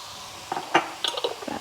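A spoon scrapes and clinks against a pot of thick lentil bolognese, a few short irregular knocks and scrapes close by over a quiet background.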